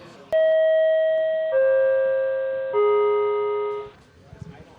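A voice imitates subway door chimes with three loud, sustained, descending sung tones, each held about a second, followed by brief low noise.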